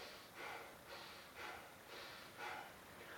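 Slow, deliberate yoga breathing: five long breathy swells of air drawn in and pushed out in a steady rhythm, close and fairly soft, with no talking.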